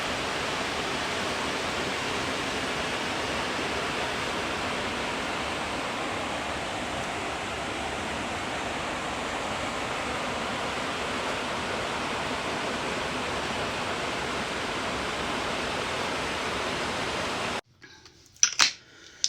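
Rushing water from a mountain stream or waterfall in Yaremche roars as a steady, loud, unbroken wash, cutting off abruptly near the end to leave a few faint handling noises.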